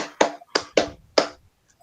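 Sharp single hand claps, four spaced beats about half a second apart, fairly close and clear with no talk over them, clapped by participants in a school counseling training exercise.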